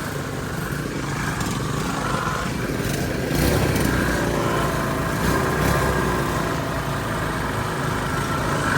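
Several four-wheel quad bikes idling together before a ride in Phuket, a steady, close engine putter and rumble that swells slightly midway as throttles are blipped, with no talking.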